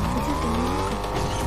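Car driven in the Fortnite video game, a steady engine drone with tyre noise running continuously and close for the whole short stretch, no talk over it.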